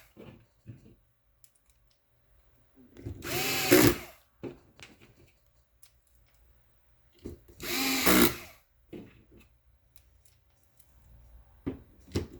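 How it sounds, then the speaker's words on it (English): Four screws being driven back into the cover of an OmniSense gateway with a small power screwdriver, heard as two brief whirring bursts separated by quiet handling clicks, close up. "Replace the 4 screws that hold the cover on."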